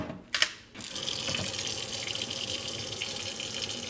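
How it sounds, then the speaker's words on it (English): Hot water runs steadily from a tap into a sink, a continuous splashing rush that starts after a brief clatter and stays loud and close throughout. "Go ahead and run the hot water."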